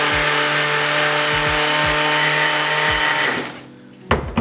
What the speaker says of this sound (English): I've got a palm sander here, which helps a lot.